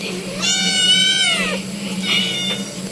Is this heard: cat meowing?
yes